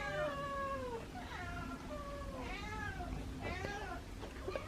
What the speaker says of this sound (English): I've been hearing a lot of meowing in here.